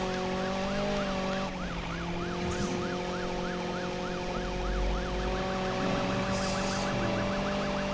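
Police car siren in the Need for Speed 2015 racing game, a steady wailing yelp cycling rapidly and loudly for the whole stretch over engine rumble, with a couple of brief sharp bursts partway through.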